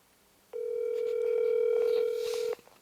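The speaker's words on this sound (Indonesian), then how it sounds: "Alright, I'm gonna try to call it one more time." A telephone call tone while placing a call about a job: one steady, clear electronic tone lasting about two seconds, then cut off abruptly, with no voices.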